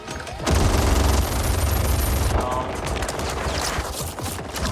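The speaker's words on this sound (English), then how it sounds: "Cassie just shoots everyone really well" Heavy, sustained gunfire from Cassie Cage's guns in the fighting game Mortal Kombat 11: a dense, loud volley that starts abruptly and keeps rattling for several seconds, mixed with game effects.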